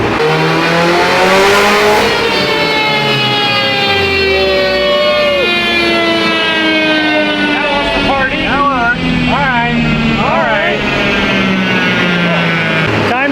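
A stock Mitsubishi Evo X engine running 40 psi of boost howls through a long, loud rev that climbs and then falls, with rich layered harmonics, steady and close throughout.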